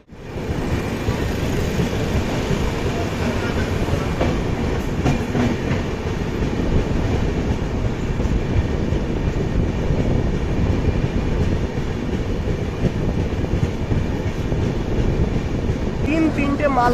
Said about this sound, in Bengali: আমাদের হামসফর এক্সপ্রেসকে লুপ লাইন দিয়ে পাস করানো হচ্ছে